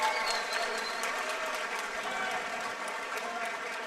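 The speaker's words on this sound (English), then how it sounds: "how about a round of applause for that amazing championship fight between these" A kickboxing championship fight audience applauds and cheers after the bout, with a dense, sustained clatter of clapping that holds steady and fills the space.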